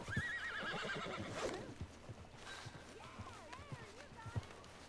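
A horse neighs and whinnies in the Red Dead Redemption 2 video game, a loud whinny up front followed by hoof clip-clops and a second whinny, with game speech over it.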